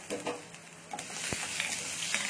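Mustard seeds, cumin, chopped green chilli and garlic frying in a little oil. A faint, steady sizzle with light crackles continues throughout, with a few soft clinks of stirring near the start and middle.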